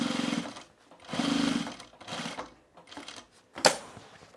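Sewing machine running in short bursts while stitching canvas cargo shorts, a buzzing whir that starts and stops several times, ending with a sharp click.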